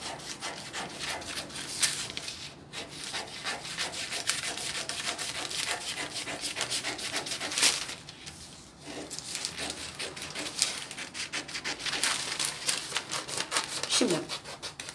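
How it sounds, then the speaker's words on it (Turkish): Scissors cutting through a paper sewing pattern for a tunic shirt dress sleeve, a steady run of close, dry rustling snips and paper rubbing with no talk. "Kesiyorum."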